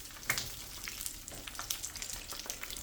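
Fish pieces for tacos frying in hot oil, a close crackling sizzle with scattered sharper pops and spits, uneven in level and quiet overall.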